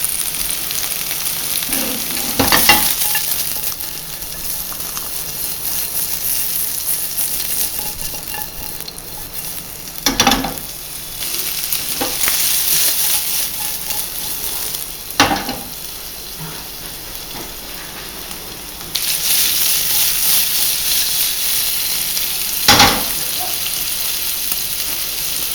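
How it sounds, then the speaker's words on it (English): Guanciale sizzles in its own rendered fat in a pan for pasta carbonara. The frying hiss is steady and close, broken by a few sharp clinks or stirs spaced several seconds apart. "Now the guanciale is starting to cook, and as you can see, fat is coming out from it"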